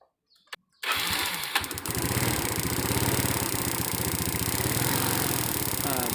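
A motorcycle engine fitted with an experimental groundstrap near the spark plug is started; a few faint clicks, then the engine cranks and catches into a loud, steady, close-up idle that continues without speech.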